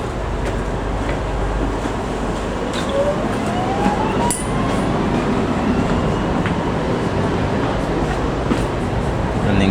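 A KTM commuter train pulls out of Bandar Tasik Selatan station in Kuala Lumpur, heard from inside as a loud, steady rumble and rolling rail noise with a brief screech and squeal midway, and no talking.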